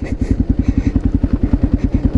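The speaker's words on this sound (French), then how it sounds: "je fais un peu du tout-terrain avec la moto pour m'habituer, pour l'Afrique" A motorcycle rides off-road along a dirt path, its engine close and loud with a rapid, steady thumping pulse and a light mechanical clatter.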